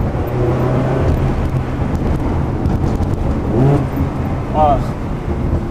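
A Ferrari 360 Challenge Stradale with a reprogrammed F1 gearbox drives in sport mode, its engine droning and rising under cabin wind noise, with a voice talking over it.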